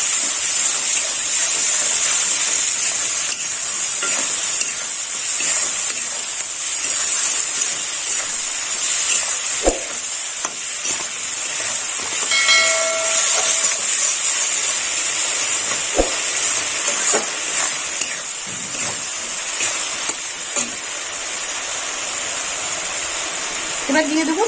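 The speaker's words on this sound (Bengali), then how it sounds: "এবার সমস্ত মশলা আমি একসঙ্গে কষে নেব।" Spices sizzle and fry together in a pan for a fish-head khichdi, a steady bright hiss that runs throughout with a few clinks, while a voice speaks over it.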